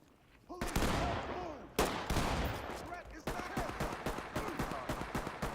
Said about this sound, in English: Yo, they're shooting him like 8 times.